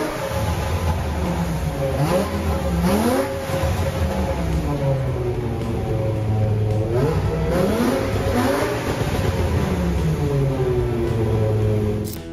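A V10-swapped BMW 8 Series with a five-exit exhaust revs loud and close, its pitch climbing and falling in several sweeping blips over a constant engine roar.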